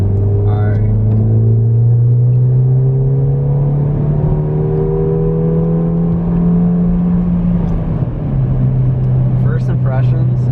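A modified Ford Fiesta ST drives under load with a loud, droning engine note that climbs gradually, drops sharply at a gear change, then carries on steadily.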